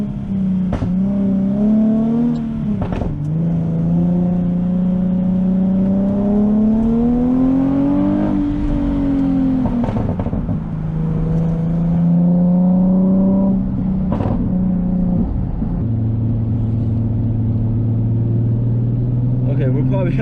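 Tuned Nissan 370Z engine and exhaust driving through a canyon, loud revving that climbs and falls across gear changes with sharp pops between shifts, close and prominent with talk over it.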